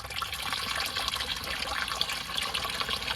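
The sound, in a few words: water draining from Maruti Eeco gearbox instead of oil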